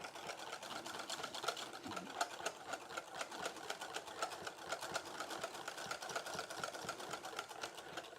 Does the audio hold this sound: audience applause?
no